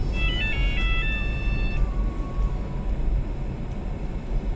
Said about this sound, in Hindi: मेरी कॉल आ रही है